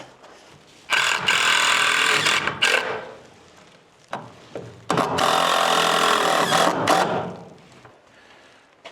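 A power driver sinks a screw into wood in two long whirring bursts, each ending in a short pause, up close and loud, with brief clicks and handling noises between them.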